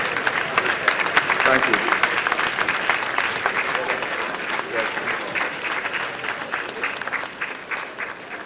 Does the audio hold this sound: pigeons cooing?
no